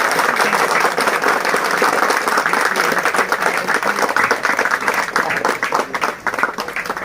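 Dense, sustained applause from an audience at an OMDC mines public hearing, steady and loud for the whole stretch with no break, many hands clapping at once.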